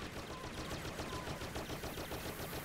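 Blaster rifle fire in Star Wars Battlefront, a fast uninterrupted volley of bright, sharp shots at an even rapid rhythm, loud and close for the whole stretch.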